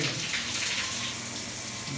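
Water sprays steadily from the nozzles of a Blue Ocean 52-inch aluminum SPA392M shower panel tower, a continuous rushing hiss with a faint voice underneath.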